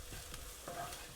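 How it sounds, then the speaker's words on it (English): Garlic frying in a pan gives a soft, continuous sizzle close by, with light stirring scrapes in a brief, quiet moment. "I'm going to add the garlic and then give it another couple of minutes."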